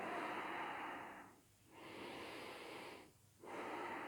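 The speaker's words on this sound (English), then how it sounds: "Take one more big breath." Deep breaths during a gentle yoga class, a long airy inhale then exhale in slow cycles with short pauses between, soft and close with no talking.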